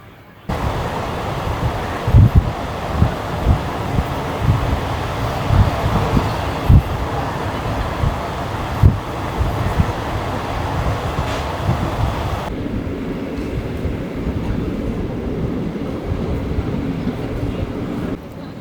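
Vijayawada–Bhadrachalam Road MEMU train running after departing Tondla Gopavaram, a loud continuous onboard rumble punctuated by sharp rail-joint knocks, the sound thinning slightly near the end.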